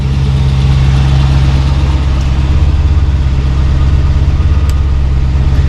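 A warmed-up 1972 Mercedes-Benz 280 SE 4.5 engine idles steadily up close at a little over 1,000 rpm, a constant low rumbling hum with no change in pace and no talking.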